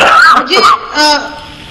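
Someone nearby gives a short, rough cough and throat clear in a couple of quick bursts.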